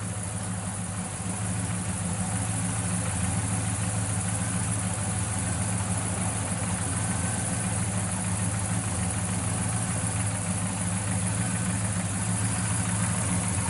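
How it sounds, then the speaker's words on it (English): A 1967 Chevrolet Chevelle SS 396 with a four-speed idles steadily, a low, even rumble held close and constant throughout with no voices over it. "Fires right up."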